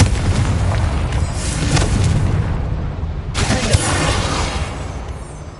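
Confringo blasting-curse explosions in the video game Hogwarts Legacy on PS5: a loud, dense roaring blast sustained through the first half, then a second sharp burst with a rumbling tail, all at close range with no talk.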